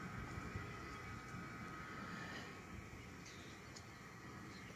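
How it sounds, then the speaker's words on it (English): A distant airplane passes unseen overhead, giving a steady, broad engine roar that holds loud and even throughout, with no voices. "there's a ghost plane up there somewhere"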